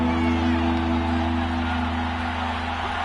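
Video game football stadium crowd cheering and building in volume as defenders urge them on, a steady broad roar under a low constant hum, with no individual voices standing out.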